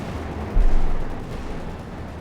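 A single heavy mortar blast from the video game Company of Heroes 2 booms once, then fades into a low rumble against steady battlefield ambience.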